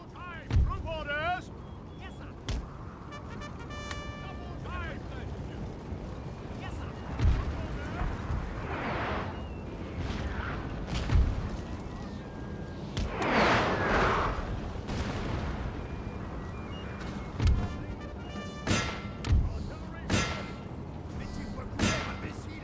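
Scattered gunshots and booming blasts from a Napoleon: Total War battle, with bursts of fire spread out over rumbling background noise.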